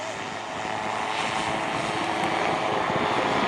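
An autogyro gyroplane flies at the Blackpool airshow, its propeller engine giving a steady, sustained drone at moderate distance under faint crowd ambience.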